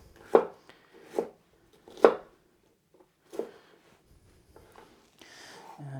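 A knife chops food into small cubes on a board, with four sharp, evenly spaced chops and a faint clatter at the end.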